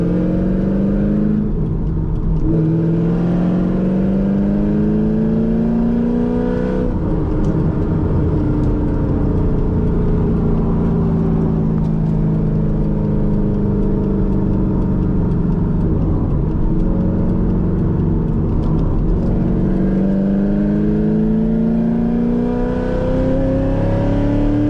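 A 1997-2004 Corvette C5 engine revs up and down repeatedly, loud and close, its pitch rising and falling over a steady rumbling idle.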